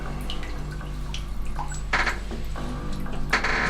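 Water drips from a faucet in a hotel bathroom at the Circus Circus Hotel, a few irregular, faint taps and splashes over a low steady hum.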